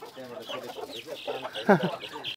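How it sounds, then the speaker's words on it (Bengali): Native village chickens at a Darjeeling homestay cluck and call in a soft, busy jumble of overlapping bird sounds, with one louder squawk near the end. "এই যে প্রচুর মুরগি আছে এখানে"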